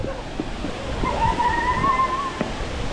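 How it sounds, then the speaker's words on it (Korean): Steady broadband rush of Shifen Waterfall in Taiwan, heard from a nearby viewpoint, fairly loud and continuous, with a faint voice-like whistle or call rising through the middle. "이야, 폭포 봐."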